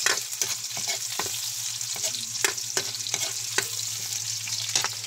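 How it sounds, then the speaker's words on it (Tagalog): Onions sautéing in a pan, a steady sizzle broken by repeated scrapes and stirs of a utensil against the pan, close and fairly loud, with no talking. "binigisa na natin yung ating sibuyas"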